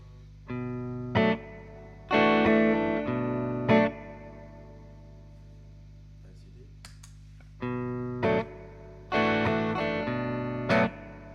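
Clean electric guitar chords played through Fulltone drive pedals, OCD, Fulldrive and Plimsoul, bright and sustained, in short repeated phrases with brief pauses between them.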